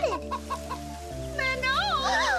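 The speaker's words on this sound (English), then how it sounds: "The chicken coop is flooded, Manon!" Cartoon chickens cluck in a flooded chicken coop on a rainy farm, a burst of short, close clucks followed by higher, wavering squawks, with voice-like cartoon tones mixed in.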